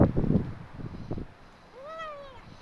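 A small kitten out in the cold rain gives a single thin, rising-and-falling meow near the end, after some soft rustling and handling noises.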